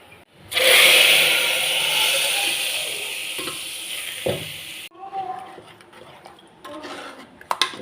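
Hot mustard-seed tempering is poured into a Kerala-style raw papaya curry, setting off a sudden loud sizzle that gradually fades, followed by quieter stirring clinks of a utensil against the pot.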